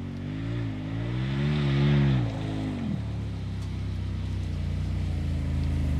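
An off-road side-by-side UTV, a RZR or Maverick, crawling uphill with a steady droning engine that rises and wavers in pitch, then settles to a lower, constant hum, close by.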